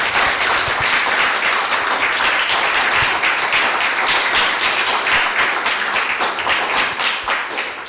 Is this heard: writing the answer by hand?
no